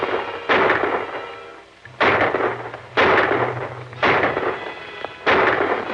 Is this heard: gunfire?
yes